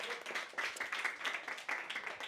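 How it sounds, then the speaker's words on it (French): Scattered audience applause at a French cinema round-table discussion, a modest group of hands clapping in uneven bursts, fairly close and brief. "Alors, bien sûr qu'on peut l'applaudir."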